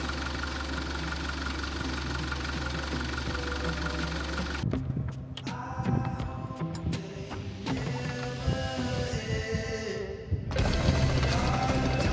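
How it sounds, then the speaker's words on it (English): Boat motor running, a steady close mechanical idle that cuts to irregular clanks and rattles midway and then returns to a loud even drone. "knowing that your motor turns on"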